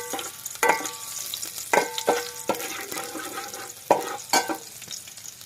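Garlic dropped into hot cooking oil for a homemade Filipino dish, a steady sizzle broken by several sharp scraping stirs of a utensil against the pan, close and moderately loud with no talking.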